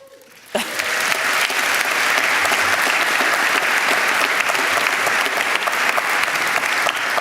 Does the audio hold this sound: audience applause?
yes